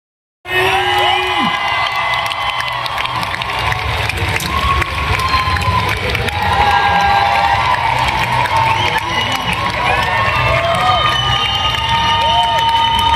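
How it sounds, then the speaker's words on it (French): An audience at a Charmed cast fan event in Paris cheers, whoops and applauds loudly and continuously, a dense close crowd roar with scattered shouts throughout. "On applaudit Holly Maricombe, on applaudit Rose McGowan, on applaudit Chanel"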